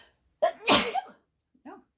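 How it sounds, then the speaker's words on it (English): A single close, loud sneeze with a quick intake before the burst, followed by a brief soft vocal sound after a short pause. "Pardon me for sneezing."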